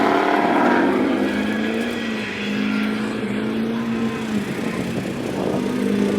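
A Corvette engine droning at a track day, a steady loud mechanical hum with a broad rumbling tone that shifts slightly in pitch, continuous and without speech.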